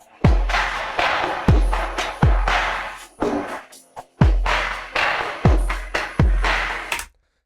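Electronic beat built on two layered kick drums, each a deep booming thump with a sharp attack, landing about once a second over a hissy, airy texture, loud and without any talking.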